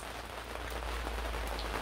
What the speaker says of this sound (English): It's keeping the rain off me at the moment